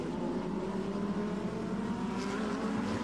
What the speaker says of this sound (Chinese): 现在我们看到前面打头的这台赛车，就是Uno Racing Team 的85号赛车